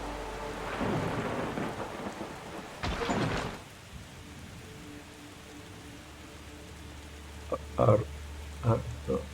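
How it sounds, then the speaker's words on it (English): Lightning strike and rolling thunder in the puzzle game The Gardens Between, two loud crackling bursts early on with rain-like hiss, followed later by a few short sharp knocks over quiet ambience. "it gets electrocuted by lightning through the paintbrush there"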